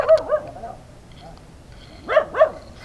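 Dogs on a mountain trail farm bark close by, two quick barks at the start and two more near the end, with quiet gaps between them.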